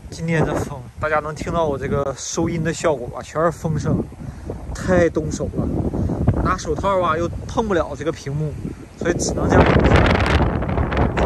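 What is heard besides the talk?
strong wind blowing into the microphone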